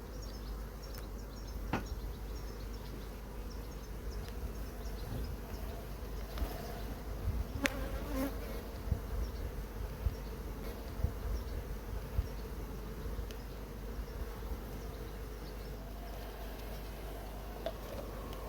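Honeybees buzz continuously close by at an opened hive, a dense humming drone with occasional sharper passes and light clicks, no voices.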